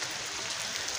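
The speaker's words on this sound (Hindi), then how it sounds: "मेरे पीछे बहुत तेज़ बारिश हो रही है" Heavy rain pouring outdoors, a dense, continuous hiss of falling water throughout the brief moment.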